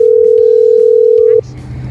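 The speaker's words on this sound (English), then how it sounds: "Pick up the phone, listen for a dial tone, put in the money, and dial" Steady, loud payphone dial tone hums continuously for over a second in a phone earpiece, then cuts off abruptly, leaving faint room noise and a brief bit of background voices.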